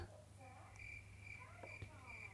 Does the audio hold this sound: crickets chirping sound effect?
yes